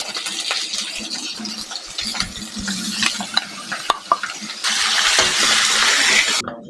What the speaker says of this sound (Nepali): अब चाहिँ म हाल्छु यहाँ प्याज रातो हुन लाग्यो, भइसक्यो रातो।